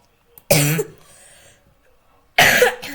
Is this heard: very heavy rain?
no